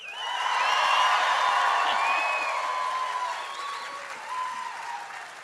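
Students and family members at a health sciences university white coat ceremony applaud and cheer, a loud, sustained wash of clapping with whoops and whistles that swells early and slowly eases off.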